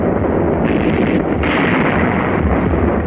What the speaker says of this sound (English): Blast on the left of the screen has struck the center tank.